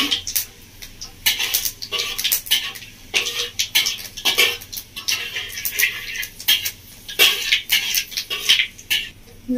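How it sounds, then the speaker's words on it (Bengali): Panch phoron spices and small pieces of bay leaf fry in hot oil in a pan, giving close, uneven bursts of crackling and popping with short quieter gaps between them. "আর দিয়ে দিচ্ছি 1 চামচ মতো পাঁচফোড়ন। ভালো করে ভেজে নেবো।"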